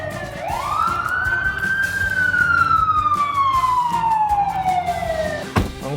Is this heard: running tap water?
no